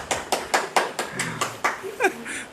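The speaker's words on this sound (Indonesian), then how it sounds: "Mohon tepuk tangan untuk Pak Lasito." A few people clap hands during an indoor podcast gathering, about ten separate, fairly close claps in an uneven rhythm, with a voice briefly heard near the end.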